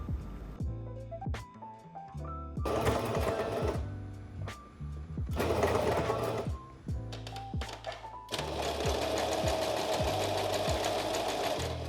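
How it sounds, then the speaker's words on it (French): A sewing machine stitches the seam of an invisible zip in several runs, the quick rhythmic needle clatter starting, pausing and speeding up, close and loud with no voices. "je couds un petit carré à l'extrémité et je viens ganser les coutures"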